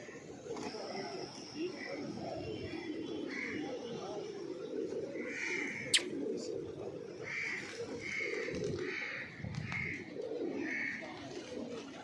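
Pigeons or doves coo repeatedly at a shrine where devotees scatter grain, a steady soft chorus of calls over a constant murmur of crowd noise, with one brief sharp knock midway.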